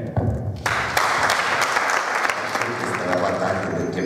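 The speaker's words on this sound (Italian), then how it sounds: "Io un altro applauso vorrei farlo fare alla dirigenza femminile" At a gymnastics club's presentation, a crowd breaks into applause that starts suddenly after a brief moment of voices and continues as dense, close clapping with a few sharper claps, some chatter blended underneath.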